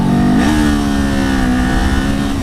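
A Kawasaki Z400 motorcycle engine roars loud and close, its pitch stepping up abruptly and then holding a steady, strained drone as the slipper clutch works.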